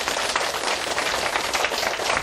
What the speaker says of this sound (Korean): 자, 박수 한번 쳐볼까요?